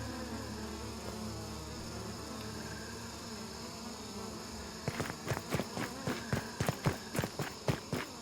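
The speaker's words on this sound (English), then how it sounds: "this stupid bee attacked me" Bee buzzing in a video game, a thin continuous drone under ambient noise, then a run of rhythmic thumping steps in the last few seconds.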